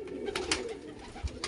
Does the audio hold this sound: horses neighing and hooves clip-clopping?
no